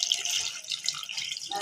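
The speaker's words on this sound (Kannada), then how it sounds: "ಸ್ವಲ್ಪ ನೀರು ಹಾಕೋತೀನಿ." Water is poured into a pan of spiced mutton chops, a short, steady splashing gush heard close up and alone.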